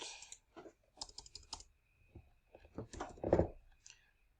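Fingers type on a computer keyboard in quick bursts of close, clicky keystrokes, with brief pauses between runs and a rush of keys near the end, heard alone without talk.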